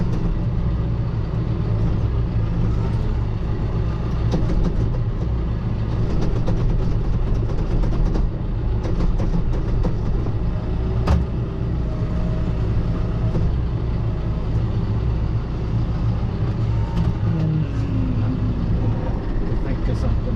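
John Deere 6120E tractor engine running steadily and loud throughout, a constant low rumble near at hand with small load swells, while people talk over it.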